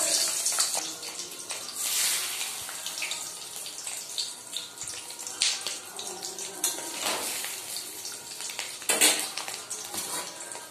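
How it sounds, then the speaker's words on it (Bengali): Fish roe dropped into hot oil in a home Bengali kitchen, frying with a steady broadband crackle and hiss that swells and falls, with a few sharper sputters, close and fairly loud, no voices. "আমি ওই তেলের মধ্যেই মাছের ডিমটা ফেলে ছেড়ে দেব।"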